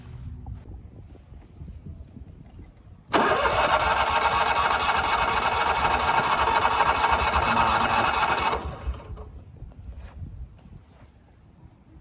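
A race car engine at Stafford Speedway fires up abruptly and holds a loud, steady high rev for about five seconds before cutting off, with quieter mechanical background noise before and after.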